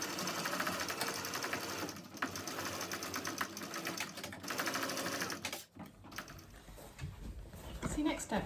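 A sewing machine stitches a backpack in quick, rhythmic bursts with brief pauses, up close and fairly quiet, with a person talking over parts of it.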